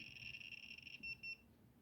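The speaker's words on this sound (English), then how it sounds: "it looks like the rate alarm has just been set off" Rate alarm on a Better Geiger S2L counter beeping in a steady high-pitched tone, faint and close, that breaks into two short separate beeps before stopping.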